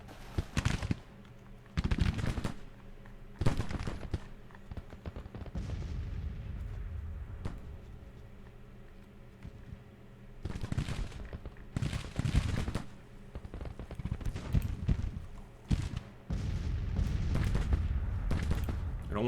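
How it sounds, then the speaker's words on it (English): Artillery fire from a Civil War battle in the Grand Tactician strategy game, with repeated heavy booming blasts arriving in irregular clusters at moderate distance. "it could just be that artillery that's really hurting us now"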